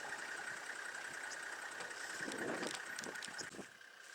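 A vehicle's engine hums steadily at a middling distance while tyres are dragged behind it to level a dirt road, a soft continuous drone with a brief scraping swell near the middle.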